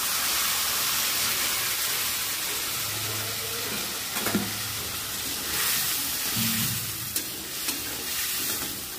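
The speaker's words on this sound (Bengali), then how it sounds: "মশলাটা কষতে থাক" Spice masala with turmeric, coriander, tomato paste and green chilli frying alongside fried potatoes for a rohu fish curry, a steady close sizzle with intermittent stirring scrapes and light clinks.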